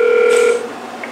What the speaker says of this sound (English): Go ahead and call the Farmer Jones hotline